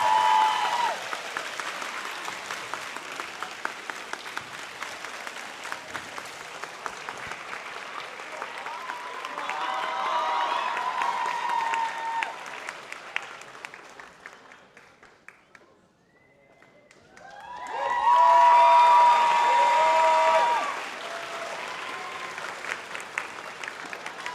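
Crowd applause for two awardees at a maker-school graduation ceremony, sustained clapping that swells and fades, drops out briefly, then surges loud and dense again.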